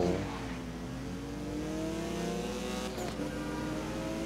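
A car engine in the racing game Need for Speed (2012) revs and accelerates steadily, a loud, sustained engine tone rising in pitch and holding across the clip, with no talk over it.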